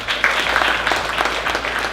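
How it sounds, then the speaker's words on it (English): Concert audience applauding steadily throughout, a dense continuous wash of clapping with no voices standing out. "applause for them."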